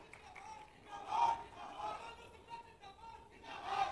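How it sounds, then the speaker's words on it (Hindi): A crowd at a political rally in Indore, held for Chief Minister Mohan Yadav, cheers and applauds in a diffuse, somewhat distant roar that swells twice, with a few louder shouts rising above the noise. "जोरदार तालियां गोलू भाई के लिए भी"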